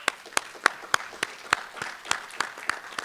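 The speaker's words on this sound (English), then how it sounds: "Give them a round of applause" Scattered applause at a school board candidate forum in a small venue, a few distinct claps standing out in an uneven, thin patter that lasts a few seconds at moderate distance, with no talking over it.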